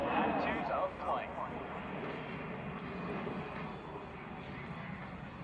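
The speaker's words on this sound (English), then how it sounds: "demonstrating the Warthog power and maneuverability in all attitudes of flight" An A-10 Warthog flying an air show display at the Royal International Air Tattoo makes a loud, rushing jet roar that surges early and then sustains as a broad rumble, with a commentator's voice running over it.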